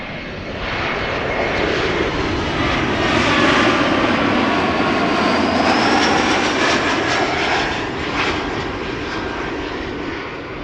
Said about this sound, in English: This is KLM flight 1710, Embraer 175, arriving from Luxembourg.